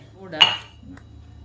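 A spoon stirring cocoa powder in a cup while a banana snack is prepared gives one sharp, close clink followed by a fainter tap, with quiet room sound in between.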